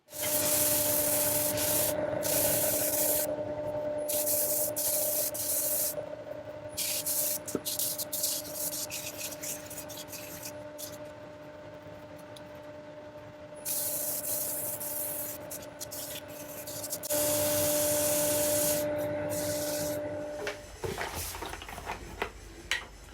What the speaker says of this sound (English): I think it's down to sanding now.